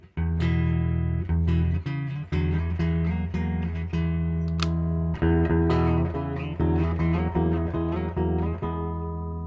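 Clean electric guitar plays chords and single notes through a tube amp, ringing clearly with a warm, full tone and no distortion.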